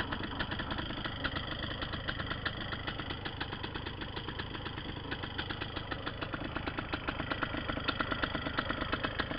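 A Simonini paramotor engine idles nearby, with a steady, even, buzzing two-stroke chatter and faint rhythmic pulses throughout. There is no talk.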